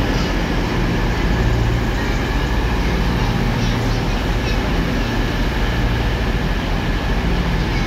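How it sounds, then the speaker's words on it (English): CrossCountry Super Voyager diesel unit 221123 arriving at a station on the Wolverhampton to Bournemouth service, a steady loud rumble and rolling wheel noise close by throughout. "coming in now is the 12:50 cross country Super Voyager service to Bournemouth only from Wolverhampton"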